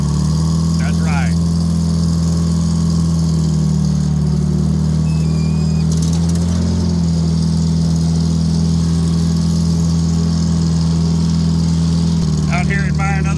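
A 1960s Michigan tractor engine runs steadily throughout as it drives around a rural property, a loud, constant low idle-like drone with a faint vibration, occasional clanks and a voice talking over it.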